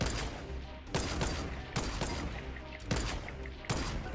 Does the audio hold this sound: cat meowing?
no